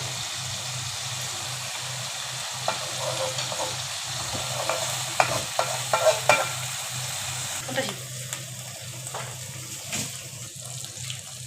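Hilsa fish cooks in mustard gravy with green chilies as a quiet, steady simmer and sizzle, broken by scattered clinks and scrapes of stirring in the pan.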